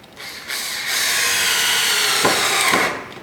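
A power drill drives self-drilling screws into a pine frame for a cubby house back wall, a close, loud whirring burst lasting a couple of seconds with a couple of brief knocks as the screw seats.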